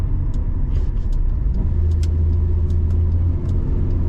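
A 33-year-old Holden Ute drives along with a steady low engine rumble and road noise, close and continuous, with a faint ticking above it and no one talking.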